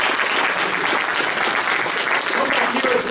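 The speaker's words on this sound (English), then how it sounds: "Stick around for a round of applause" A business event audience applauds loudly and steadily, dense clapping filling the whole stretch without a break.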